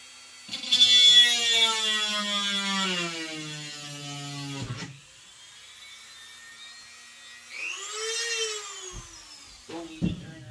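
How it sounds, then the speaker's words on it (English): A high-pitched drill whines steadily for several seconds drilling through a small carbon fiber piece, its pitch sliding, then stops; after a pause it spins up again briefly, with a couple of clicks. "we're gonna drill through this little carbon fiber piece"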